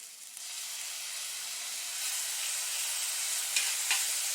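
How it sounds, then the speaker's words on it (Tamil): Ginger garlic paste and shallots sauté in a pan for spinach pulao, making a steady, faint hissing sizzle that swells slightly midway, with a couple of light spoon taps near the end. "கொஞ்சம் நல்லா அந்த பச்சை வாசம் போகிற வரைக்கும் நல்லா வதக்கிடலாம்."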